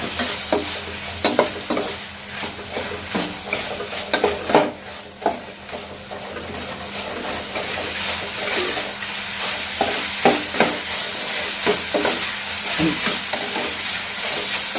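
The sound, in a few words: stirring beans frying in a pan with turmeric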